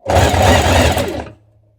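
A sewing machine stitches a small double-fold hem on a dress, one steady, loud, close mechanical whir lasting just over a second before stopping abruptly.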